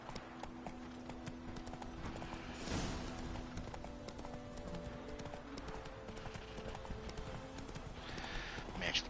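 Galloping horse hooves in The Witcher 3 video game, a steady clip-clop rhythm running throughout at close range, with a brief whinny-like swell and a player's voice talking over it.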